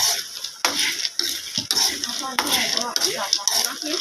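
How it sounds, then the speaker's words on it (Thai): Wild mango seeds roasting with salt in a pan while a spatula stirs them often: repeated scraping and rattling strokes of utensil against metal with a faint sizzle, close and steady. "ต้องคนบ่อยๆนะคะ ไม่งั้นเดี๋ยวข้างล่างมันจะไหม้ก่อนสุกนะคะ"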